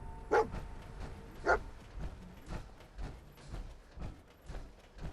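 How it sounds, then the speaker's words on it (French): A dog barks in the Fallout 4 video game, two sharp barks near the start followed by softer repeated yips and woofs spaced about a second apart, fairly close and without speech. "il a trouvé des ennemis le chien, il est content"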